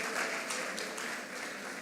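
Brief crowd clapping at a university congregation ceremony for a graduate, a moderate, even patter of many hands with a few sharper claps standing out.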